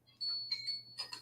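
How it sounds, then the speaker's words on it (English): A small alarm ringing in quiet, thin and high-pitched, with a steady tone broken by a few brief chirping pulses over about a second. "There's my little alarm."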